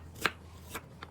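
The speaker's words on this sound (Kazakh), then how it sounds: "уақтап турап аламыз" A knife chops ingredients finely on a kitchen board while stuffed bell peppers are being prepared, giving three short, crisp strikes spaced unevenly and heard up close in a quiet room.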